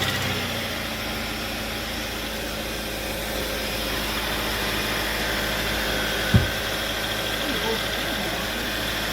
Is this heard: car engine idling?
yes